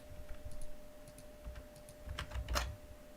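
Quiet clicking of computer keyboard keys, with irregular soft taps clustering into a short louder burst near the end, set against a steady low hum.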